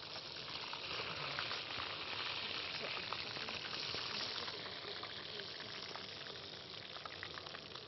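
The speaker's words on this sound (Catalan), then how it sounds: "I anem a fregir l'ou." An egg fries in a pan at a cooking competition, a steady close crackling sizzle of hot oil that continues evenly throughout without talk.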